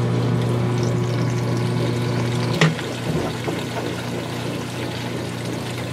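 Whirlpool washing machine draining, a steady pump hum with water pouring and gurgling through the hose; the tone shifts partway through with a brief clunk as the flow changes.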